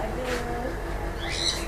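Parrots calling inside a bird aviary, a dense mix of chirps and squawks layered over steady background noise, with a brighter high call rising near the end.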